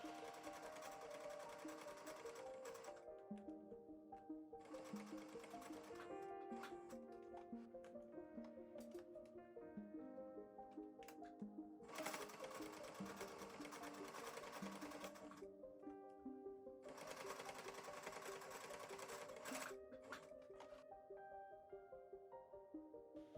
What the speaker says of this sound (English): Now, time to sew.